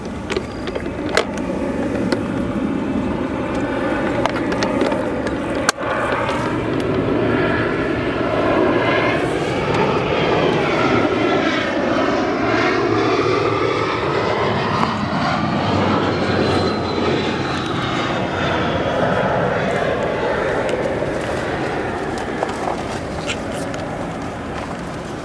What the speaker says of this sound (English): 747-8 departing 9 center